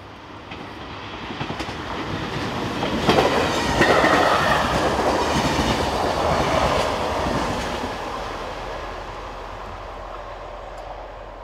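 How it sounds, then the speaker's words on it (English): A French Z26500 electric multiple unit, set 430, passes heading south toward Paris Nord, its roar swelling with rhythmic wheel clatter and a faint squeal, then fading, loud and near with no voices. "Z26500 unit number 559, which is also numbered as set number 430, heads south, forming the 1809 service from Compiegne to Paris Nord"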